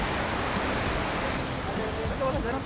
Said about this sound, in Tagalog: Ang lakas ng alon!